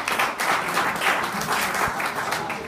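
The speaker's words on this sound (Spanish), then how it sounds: "Un aplauso a los tigres." Short burst of audience clapping for a football team, dense and steady throughout, fairly close and lively.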